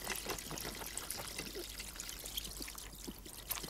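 Drinking water is poured into a glass in an indoor scene from a 1980 German film, a quiet, close trickle and splash running steadily for a few seconds.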